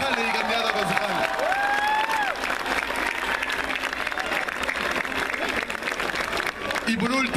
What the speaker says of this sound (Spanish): un aplauso para los concejales y candidatos a concejales